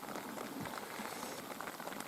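Rain falls on a camera during a fishing trip, a dense, even patter of drops with a constant hissy texture, close and soft, with no voices.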